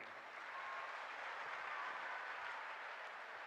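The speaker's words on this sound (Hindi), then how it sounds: "पीछे वाले अगर जग रहे हैं तो एक बार जोरदार तालियां होनी चाहिए" Applause from a large audience at a Kavi Sammelan poetry gathering in Rampur Khagal, a steady dense wash of clapping at moderate distance that holds evenly throughout.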